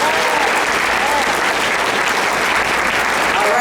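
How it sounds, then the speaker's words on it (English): Luncheon audience giving sustained, dense applause after a keynote speech at an alumni scholarship event, loud and even from start to finish. "give a round of applause for our keynote speaker"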